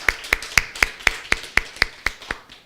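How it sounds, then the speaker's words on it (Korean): Church congregation at a children's Sunday service clapping in unison, about ten evenly spaced, crisp claps in a steady rhythm, fairly close and loud, with no talking over them. "우리의 찬양을 기뻐 받으신 하나님께 감사와 영광을 박수 올려드리겠습니다"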